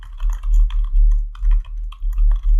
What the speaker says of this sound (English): you can type this command to install it.